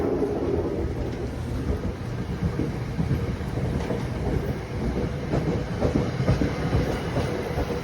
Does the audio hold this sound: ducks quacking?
no